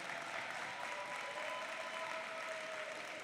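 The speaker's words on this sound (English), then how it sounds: "Let's give her a big round of applause." A hall audience at an academic decathlon event applauds a winning student, a dense continuous patter of clapping with faint tonal ringing underneath, no voices.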